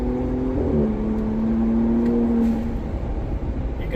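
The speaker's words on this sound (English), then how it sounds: "So, you can hear the exhaust when you want to." A 2025 RAM 1500 Rebel pickup with the 3.0 Hurricane engine and an AWE 0FG exhaust drives on the road, its low steady exhaust drone and engine whir holding a sustained tone that dips slightly as the truck cruises.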